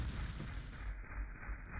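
Gunfire in Quake II, a dense burst of heavy low booming shots that cuts off abruptly partway through, continuous and loud with no talking.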